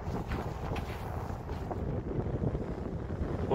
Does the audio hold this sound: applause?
no